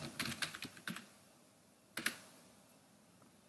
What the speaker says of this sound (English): First of all, I type Oliver just.